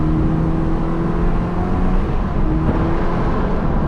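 A 2024 Subaru Impreza RS accelerating on the road, a loud steady engine drone and whir heard from inside the car, building gradually with no talking.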